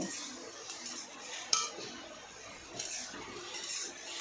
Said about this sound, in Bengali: দিয়ে এটাকে ভালো করে নেড়ে দেবো